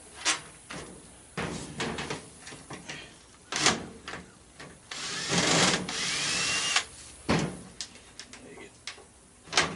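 Bursts of a power drill backing screws out of a clothes dryer being scrapped for copper and aluminum, several short whirring spurts with clanks and handling noises between, close and fairly loud, no talk.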